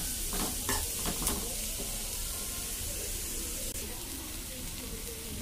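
Grated carrot sizzles lightly in a pan, with soft scraping stirs in the first seconds over a steady, close frying hiss.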